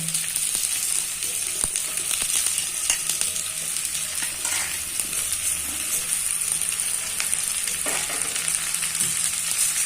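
Sliced ridge gourd sizzles in a pan of oil with shrimp and potato, a steady crackling fry with occasional sharp pops and the scrape of stirring, close and continuous.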